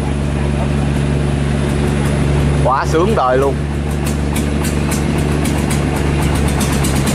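A two-engine 2,000-tonne barge runs on the water with a loud, steady, low engine drone throughout, close by, as someone briefly speaks excitedly over it.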